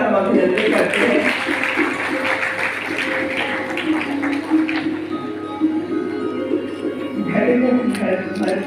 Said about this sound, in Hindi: आप सभी की तालियों के साथ हम अभिनंदन करते हैं